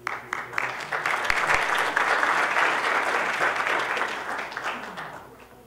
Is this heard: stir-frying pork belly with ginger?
no